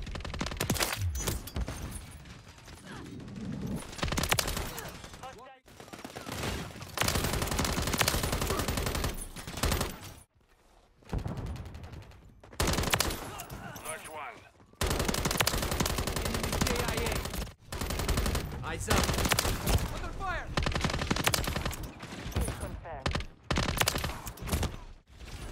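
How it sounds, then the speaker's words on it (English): Sustained bursts of BAS-B assault rifle fire in Call of Duty: Modern Warfare 3, loud, rapid automatic shots in long strings separated by brief pauses, with occasional other gunfire in the mix. "what we got in that Bas-B, as you've seen, this gun is a shredder"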